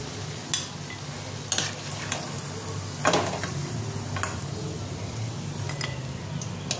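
Fried poa fingers being lifted out of hot frying oil: a steady low sizzle with several sharp metallic clicks and scrapes of a utensil against the pan, close and alone.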